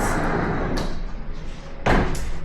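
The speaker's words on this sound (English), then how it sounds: "this has a sliding door to close it off so it can be fully private" A sliding bathroom door in a resort suite rolls along its track and shuts with a firm thud near the end, heard close with a softer knock earlier and no voices.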